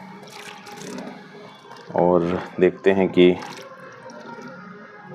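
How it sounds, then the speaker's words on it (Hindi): Water poured slowly from a roughly 20-litre bucket onto coco peat gives a faint trickle and dripping, soon mostly covered by someone speaking Hindi. "तो अब हम इस पे धीरे धीरे पानी डालना शुरू करते हैं और ये एब्ज़ॉर्ब कर रहा है पानी को।"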